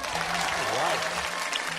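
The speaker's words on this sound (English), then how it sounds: "And they cut to the audience after they say in coconut shrimp, and the crowd goes ham." A studio audience on an infomercial-style show bursts into loud, continuous applause and cheering, a dense roar of clapping filling the brief moment.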